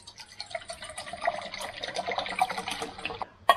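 Water splashes and trickles into a cooking pot outdoors on a hiking trip, an irregular pouring sound lasting a few seconds, close and moderately quiet, ending with a small clink.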